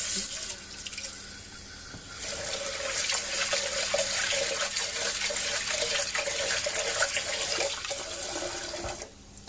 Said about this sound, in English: Rinse the rice.